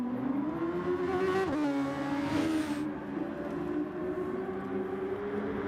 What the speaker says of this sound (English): These cars sound phenomenal.